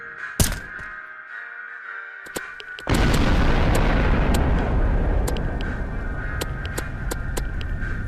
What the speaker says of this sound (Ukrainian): Підрив ядерної бомби на кораблі у морі.